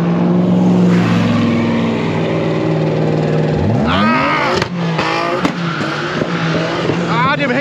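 A classic car at an autumn season-closing meet at Klassikstadt Frankfurt, its throttle stuck, roars at full revs with a loud sustained engine note, then rising and falling sweeps and tire squeal, with voices and crowd chatter underneath.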